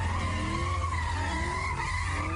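Cars skid away with long, loud tire screeches and engine roar, a continuous squealing wail that wavers in pitch throughout.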